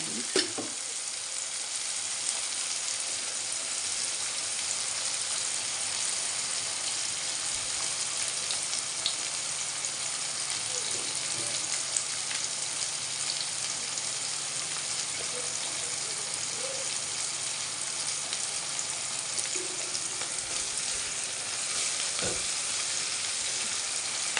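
Eggplant and green pea curry fries in hot oil in a pan, giving a continuous, even crackling sizzle that runs unbroken and fairly loud throughout.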